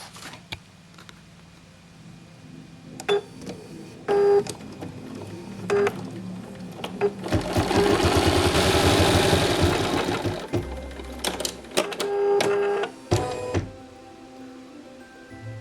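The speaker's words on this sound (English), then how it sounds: "The next stitch of the embroidery design is called the front panel tack downs, and this will stitch the upper, top, and lower fabric sections in place." An embroidery machine stitches the front panel tack downs on an in-the-hoop zippered pouch, holding the upper, top and lower fabric sections in place. Close mechanical clatters come in short bursts, then a louder sustained rattling run, then more stop-start stitching.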